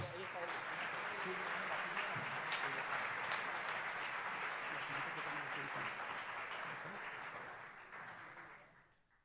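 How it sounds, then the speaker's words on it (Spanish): Audience applause at a municipal ceremony in Colima, a sustained wash of many people clapping at a distance, steady for most of its length before fading out near the end. "Un fuerte aplauso, por favor."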